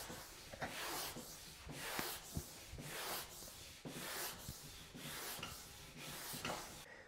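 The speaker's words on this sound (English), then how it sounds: "I'm just taking my scrubby pad and I can do that tip to tail or giving it a couple good rubs down the line here" A scrubby pad rubs along a snowboard base in steady back-and-forth strokes, about ten even passes, each a close, rasping swish with no talking.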